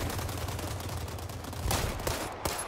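A gun fires in the World War 3 shooter game during a test, a dense run of rapid gunshots with a few sharper cracks standing out near the end, fairly close and with no talk.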